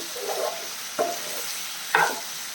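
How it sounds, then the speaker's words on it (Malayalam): Chicken frying in a little oil over a high flame in a non-stick pan, a steady hiss of sizzling with two sharp stirring scrapes standing out near the end. "ഹൈ ഫ്ലൈമിൽ വെച്ച് തന്നെ നമുക്കിത് ചെറുതായിട്ടൊന്ന് ഫ്രൈ ചെയ്തെടുക്കണം എണ്ണയൊക്കെ നമ്മൾ കുറച്ചേ ഒഴിച്ചിട്ടുള്ളൂ"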